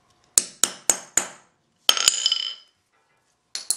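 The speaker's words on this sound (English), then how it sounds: "give it a couple of taps with a hammer" A hammer taps a metal hole punch set over a leather strap on an anvil, four sharp ringing metallic strikes in steady rhythm, then two more blows with a rattling ring, and another hit at the end, close and loud.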